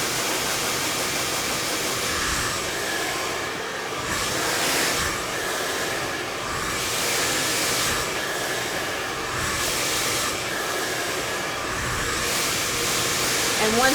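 A hair dryer blows hot air through hair during a blowout with a round brush. It is a steady, loud, broadband whoosh that runs the whole time, with small swells as the airflow shifts.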